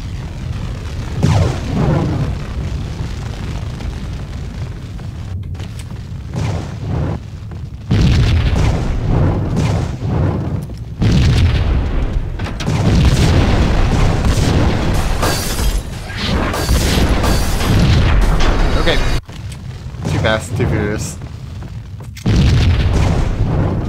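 Loud, booming blasts of explosions and gunfire in Max Payne come in long sustained bursts, with brief quieter gaps between them.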